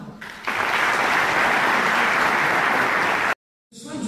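Sustained, dense applause from a seated audience at a ceremony of ENCG Settat, a business school in Morocco. It swells in quickly, holds steady and loud for about three seconds, then cuts off abruptly before more clapping returns.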